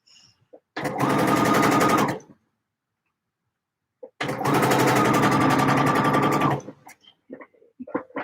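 A sewing machine stitching a shirt lining runs in two bursts, about one and two seconds long, separated by silence, with small handling noises around them.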